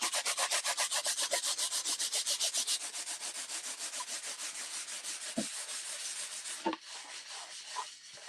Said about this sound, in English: sand the back of your holes. I do have a sandboard here.